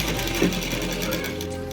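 A sewing machine stitches blouse fabric, a steady close mechanical whir running through the whole short stretch with no pause.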